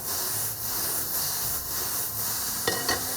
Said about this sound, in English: And again, we just mix that up, just like that.